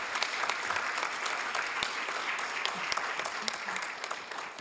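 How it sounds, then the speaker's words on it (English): Applause for housing professionals fills a city council chamber in Hayward. Steady, even clapping from a modest crowd sounds distant and fairly faint, with no speech over it. "So let's give all of our housing professionals a big round of applause."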